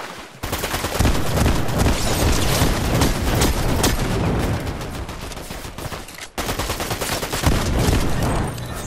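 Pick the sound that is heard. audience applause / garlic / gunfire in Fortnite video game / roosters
gunfire in Fortnite video game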